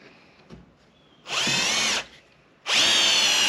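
Power drill driving screws into a wooden workbench, heard as two short, loud, close whirring bursts separated by a pause, with faint handling noise before them.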